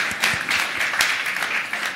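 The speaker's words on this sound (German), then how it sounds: "Noch einen Applaus mal für Kira." A live audience at a campus stage event breaks into steady, lively applause. The dense clapping stays loud and fairly even for about two seconds, with no voices over it.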